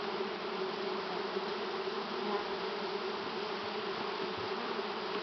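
Honey bees swarm and buzz steadily at a hive being given a powdered sugar mite treatment, a dense continuous drone heard up close with no pauses and no voices.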